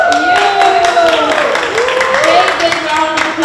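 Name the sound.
applause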